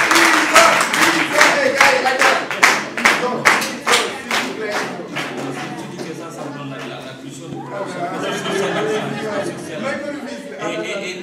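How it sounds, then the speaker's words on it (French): An audience at a literary gathering in Rufisque claps in a steady rhythmic beat that fades after several seconds into murmuring and a speaking voice. "On l'applaudit."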